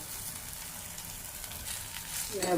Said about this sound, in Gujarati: બરાબર તેલમાં શેકી લઈએ, એટલે કે આપણો રોટલો જૂનો હોય તેને તાજો થઈ જાય ને.